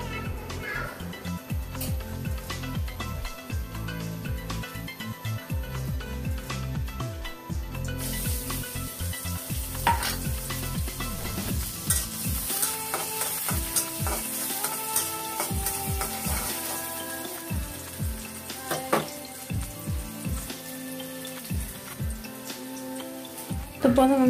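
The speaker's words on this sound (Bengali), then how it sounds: "প্রথমে আমি শাক ভাজিটা করবো, সেটা হলো পাট শাক ভাজি।" Jute leaves (pat shak) stir-fry in a pan with a steady sizzle and the scrape and clatter of stirring throughout, growing louder partway through. A voice is also heard.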